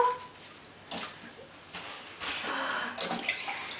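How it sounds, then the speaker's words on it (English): Water poured into a bathtub during a child's bath, splashing and sloshing in several bursts that grow busier toward the end, heard close in a small echoing bathroom. "Can you pour water on Elmo?"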